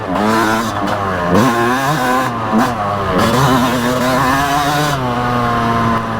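A 2022 Yamaha YZ250 two-stroke dirt bike ridden on a motocross track, its engine loud and close, revving up and down in repeated throttle bursts with rising and falling pitch throughout.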